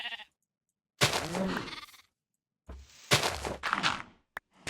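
Two bursts of sheep bleating in the Minecraft modpack Project Ozone, each a wavering, nasal cry, separated by short silences, with a faint thump at the end.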